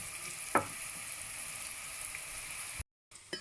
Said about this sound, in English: Just saute this for about 2 to 3 minutes.